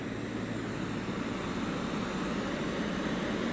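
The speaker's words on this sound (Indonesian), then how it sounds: "Sekarang pesawat lagi exit runway via taxiway Alpha to the gate" Garuda Indonesia aircraft PK-GIJ taxis off the runway at Aceh's BTJ airport at night, a steady, broad jet-engine roar with a constant low rumble, fairly distant and unbroken, with no talking.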